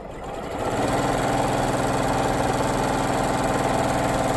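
A Janome Continental M7 sewing machine runs at full speed, a loud, steady motorized whir with rapid needle chatter that ramps up in the first second and then holds constant, with no talking.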